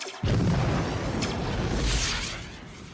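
A sudden loud boom from a flare explosion in the film Predator erupts and sustains as a dense roaring blast with crackling debris, slowly fading over a few seconds.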